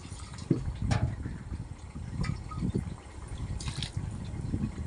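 Water is poured into a pan of potato and pea curry, a close, uneven splashing and trickling that comes in several bursts, with faint clinks of the vessel.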